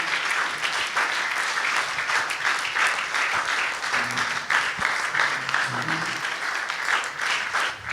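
A church congregation applauds the Lord in sustained, dense clapping from many hands, steady and fairly loud throughout, with faint voices murmuring underneath.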